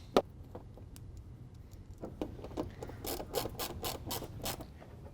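A ratcheting driver turns a 7/32 screw into a fender flare at the wheel well, giving a close click, a pause, then a run of quick rapid clicks.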